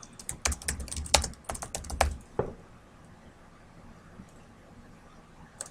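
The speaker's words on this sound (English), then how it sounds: "I'm going to type my name" A name being typed on a computer keyboard in a spreadsheet, with a quick run of close, crisp key clicks for about two seconds, then a single keystroke and quiet room tone.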